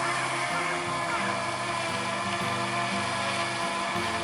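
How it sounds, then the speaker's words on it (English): DJI Mini 2 drone flying outdoors over a flooded river valley near Norwich, its steady rotor whine and hum droning continuously and fairly loud throughout, with broad wind-like noise around it. "let's get this drone up"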